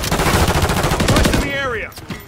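Fast automatic gunfire in Call of Duty: Modern Warfare III rattles loud and close for over a second, then cuts off as a voice shouts over the fading shots.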